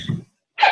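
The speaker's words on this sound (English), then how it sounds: "but I have to sneeze." A single short human sneeze: a breathy intake followed after a brief pause by a sharp, bright burst, close and loud, with no talking.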